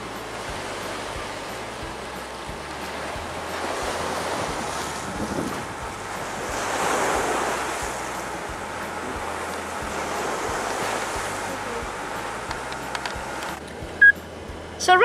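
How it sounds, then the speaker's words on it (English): Ocean surf on the shore at Phuket, Thailand rolls as a steady broad roar, with wind buffeting the microphone throughout and a few clicks near the end. No one speaks. "it's the ocean"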